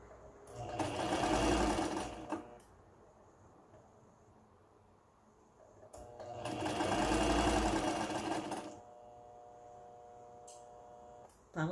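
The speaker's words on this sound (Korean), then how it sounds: "박고 있습니다. 박아놓고 다시 한번 박아." A sewing machine stitches a jumper pocket and sleeve in two bursts of rapid whirring, each about two seconds long and close up, with quieter pauses and faint ticks between them.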